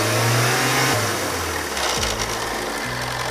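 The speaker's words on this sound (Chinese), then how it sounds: "这发动机响听到没有？ 太严重了，一个行驶了5万多公里的发动机。" An EA888 car engine with over 50,000 km shows an abnormal noise, running close and loud with a rough revving drone that drops and steps in pitch, carrying a rapid mechanical rattle throughout.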